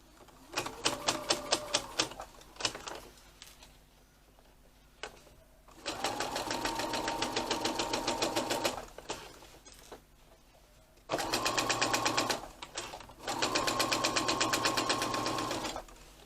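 A sewing machine stitches two pieces of tote bag lining fabric together at a 1/4 inch seam allowance. Close, rapid stitching comes in several sustained runs separated by short pauses.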